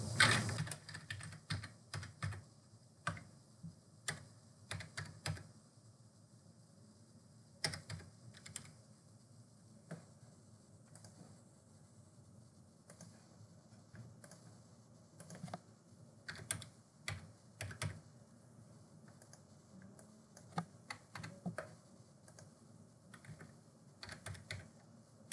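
Keys clatter on a computer keyboard in quiet bursts of rapid tapping broken by short pauses, close and fairly soft, as someone enters personal details into an online college admission form, with no voices.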